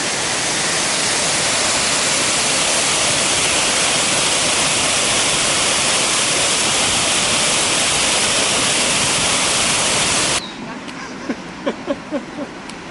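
A waterfall on the Otter hiking trail pours with a loud, dense, unbroken rush for about ten seconds, then cuts off abruptly to a quieter outdoor scene with a few faint thumps and sounds.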